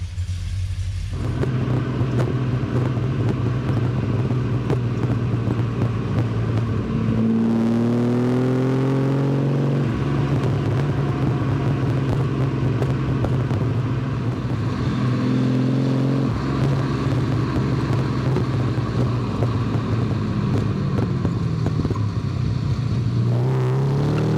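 A 1973 Jaguar E-Type Series III V12 2+2 fires up warm and settles into a steady, rumbling idle, with a few blips of revs lifting the note before dropping back, close and loud, no talking.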